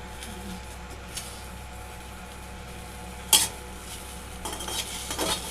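Okra with a little sour seasoning roasting in a kadai makes a steady, soft sizzle under scraping stirs, with one sharp metallic clink midway and livelier scraping toward the end.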